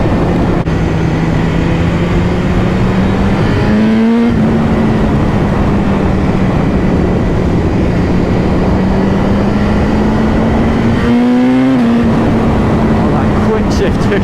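A BMW HP4 Carbon superbike engine revving hard under acceleration, its steady high-pitched drone briefly dipping at each quick-shifter gear change, loud and continuous, with a rider speaking over it.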